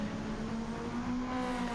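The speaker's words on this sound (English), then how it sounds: "she downshifts from third to first, going uphill as fast as she can" Race car engine in Gran Turismo 7 at Mount Panorama, downshifting while climbing uphill: a loud, steady, buzzing engine drone holding a high-revving tone throughout the brief moment.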